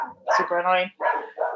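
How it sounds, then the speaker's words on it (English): Household dogs bark in a quick burst of several yappy barks that overlap with a person talking nearby indoors. "Oh, my dogs are barking."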